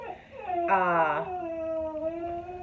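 A dog whines and then lets out a rising, wavering howl that slides down into a long, thin whine, close by and alone with no talk over it.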